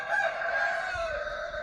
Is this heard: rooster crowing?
yes